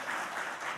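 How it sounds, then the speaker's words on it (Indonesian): A church congregation applauds the praise and worship team, a faint, brief, continuous wash of many hands clapping together, heard alone without speech. "Boleh kita beri tepuk tangan untuk teman-teman Praise and Worship,"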